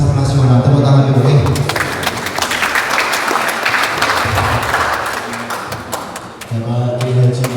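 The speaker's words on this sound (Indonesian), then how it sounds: "Tepuk tangan dulu." An audience at a religious gathering bursts into loud, sustained applause between stretches of someone speaking through a PA.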